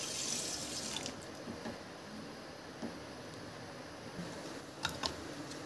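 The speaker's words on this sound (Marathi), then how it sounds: "एक अर्धा पेला पाणी टाकत आहे" Water is poured into a pan of sugar to make syrup, a faint, steady trickle that runs through the whole stretch, with a few small knocks and splashes near the end.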